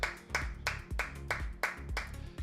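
Single person clapping hands in a regular, loud, close rhythm of about eight sharp claps, each a distinct burst with short gaps between.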